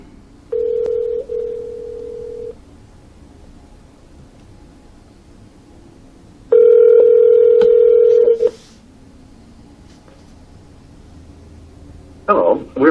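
A dial tone sounds through a SoundBot SB1010 Bluetooth speaker, then a phone line rings with a long tone, followed by a short burst of tones near the end.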